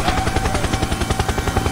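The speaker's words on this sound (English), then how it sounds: "Helicopter, helicopter." A helicopter's rotor thumps in a fast, steady rhythm, loud and close, with a low engine drone underneath.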